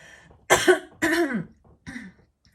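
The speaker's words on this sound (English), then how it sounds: "Now I got to cough again." Three harsh coughs in close succession, loud and close, with brief pauses between them and quiet otherwise.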